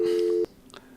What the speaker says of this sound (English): That phone noise is a little annoying.